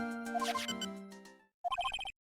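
A telephone rings in the video game Phoenix Wright: Trials and Tribulations: a warbling electronic ringtone of rapid two-tone pulses, a longer burst, a brief silence, then a shorter burst, alone and close.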